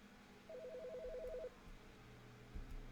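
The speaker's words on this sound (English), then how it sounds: "I hear a phone ringing" In the video game The Stanley Parable, a telephone rings as a single short electronic trill, faint and set against a quiet low background hum.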